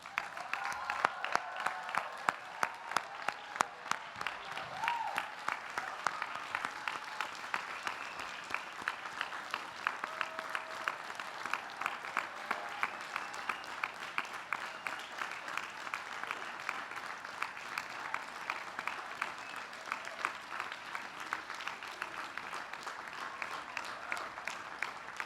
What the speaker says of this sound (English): Will the candidates please stand so we may give them a final round of applause?